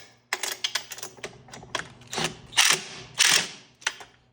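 Bolts being tightened one after another in a crisscross pattern on a Chrysler, a series of close, sharp ratchet clicks in short bursts of varying length, with no talking.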